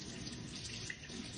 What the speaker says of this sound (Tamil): அப்புறம் லைட்டாக தண்ணி ஆட் பண்ணிக்கோங்க.